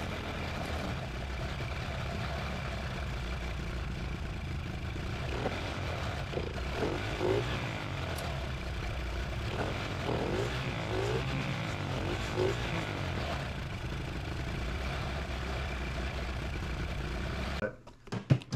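A Predator 212 minibike engine, carburetor recently adjusted, runs at a steady drone with slight rises in revs, holding a constant level throughout before cutting off abruptly near the end.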